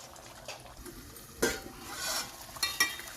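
Chicken curry bubbles and sizzles in a pan as a spoon stirs it, scraping the metal in a few short bursts, fairly quiet and close with no voices.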